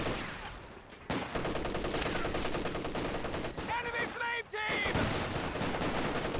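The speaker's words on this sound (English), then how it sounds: "Sniper getting some good shots in" Battle sounds from the strategy game Company of Heroes 2 with sniper shots and repeated machine-gun bursts, steady rattling fire punctuated by sharp cracks, mid-distance and fairly loud, with no clear voice over it.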